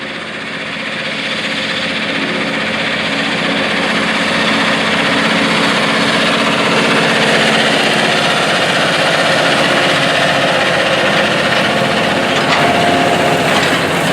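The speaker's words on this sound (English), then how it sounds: "9620RX articulated track tractor with a 60-foot wide Blue Jet toolbar to apply anhydrous ammonia to inject nitrogen fertilizer in the ground" John Deere 9620RX articulated track tractor pulling a 60-foot Blue Jet anhydrous ammonia toolbar across a Western Kentucky field, a steady, loud, broadband engine roar that swells slightly and then holds constant without talk.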